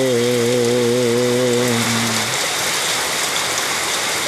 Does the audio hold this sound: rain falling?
yes